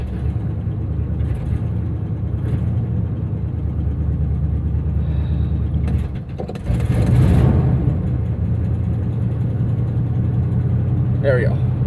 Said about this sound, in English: Try and set it into high idle.